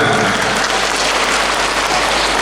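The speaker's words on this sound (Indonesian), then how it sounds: "tepuk tangannya jangan ragu-ragu ya." A dense, steady wash of clapping from a large crowd, loud and continuous throughout with no voices standing out.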